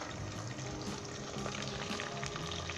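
Chopped tomatoes frying in oil with onion, ginger and garlic browned light golden, a steady close sizzle with faint stirring running through the whole short stretch, no voices.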